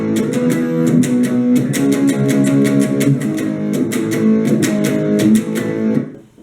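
Electric guitar plays the chorus of a song, a steady run of strummed chords with sharp rhythmic accents throughout, loud and close, then cut off abruptly near the end.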